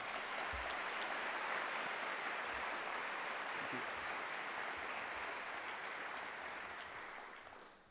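A large convocation audience keeps up a broad, sustained round of applause from a big crowd, steady and full before gradually thinning toward the end.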